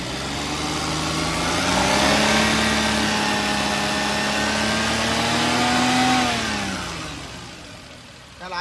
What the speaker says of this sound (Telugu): సార్ కొంచెం యాక్సిలరేటర్ ఇవ్వరా